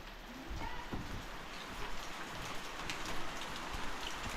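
Heavy rain pours down in a dense, steady hiss of drops close by. It swells slightly over a few seconds, and no voices are heard.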